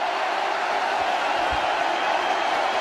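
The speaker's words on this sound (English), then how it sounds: "The crowd's loving it." A steady roar of a cricket crowd cheering a boundary at a Test match in Kanpur, India versus South Africa, a broad, even wash of distant voices holding at one level throughout.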